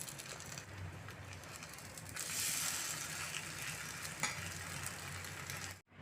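Small flour snacks fry in white oil, giving a dense, continuous sizzle and bubbling that swells slightly partway through, heard close up with a faint clatter before it cuts off abruptly at the end.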